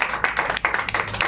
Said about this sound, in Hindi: उनके लिए भी एक जोरदार ताली होना चाहिए।